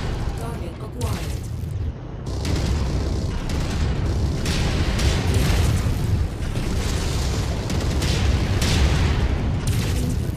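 Missile explosions in the MechWarrior 5 mech combat game, a dense barrage of loud booms and bursts rolling continuously for about ten seconds, with heavy low rumble throughout.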